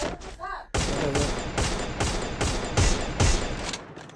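Rapid gunfire from the Free Fire video game, a string of about ten sharp, loud shots in an uneven quick rhythm after a brief lead-in.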